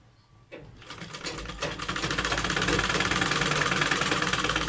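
Close-up whir of a sewing machine stitching a hidden pocket into a salwar, starting after a short pause and building into a fast, steady mechanical rattle that runs continuously without talk.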